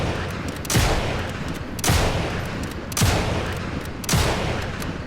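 Lee Enfield bolt-action rifle fired in Sniper Elite 5: four loud, sharp shots about a second apart, each with a rolling echo tail, heard alone.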